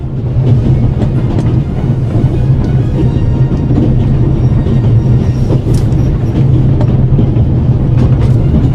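A train running in the video game The Raven: Legacy of a Master Thief, a loud steady low rumble with faint rhythmic rail clatter, continuous throughout and without speech.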